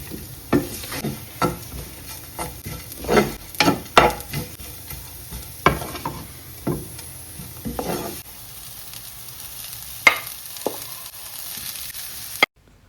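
Crab pieces fry in a pan for a Sri Lankan-style crab varai, with a steady sizzle and repeated scraping and clattering as the mixture is stirred, close and busy throughout.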